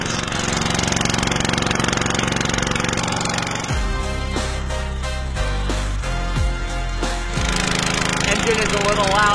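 Boat engine drones loudly during a ride on the Kabul River, with a steady low chugging rumble throughout and sharp knocks and clatters in the middle.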